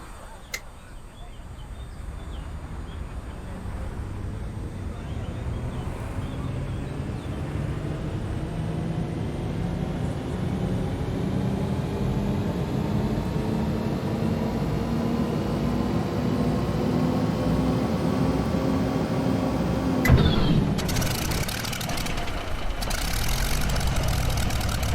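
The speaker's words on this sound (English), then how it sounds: "At this point I will then flick the starter switch up, and all being well, this will start the engine." A P-40C Tomahawk fighter's piston engine turns over and catches after a starter click, then settles into a steady, loud, low rumbling idle that holds close and continuous, with a sharp burst of added noise near the end.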